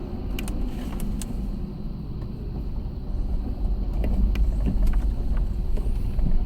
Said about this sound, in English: Now I'm going to brake pretty hard here for this turn.